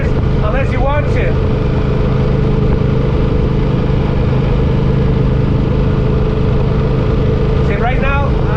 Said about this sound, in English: So I'm doing 45 miles an hour. The engine is humming nicely.